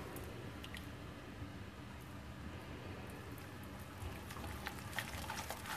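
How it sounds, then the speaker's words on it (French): Cake batter of creamed butter and sugar with added oil being gently stirred, a quiet, soft squishing and wet smacking at close range that grows slightly busier toward the end. "Je mélange tout doucement."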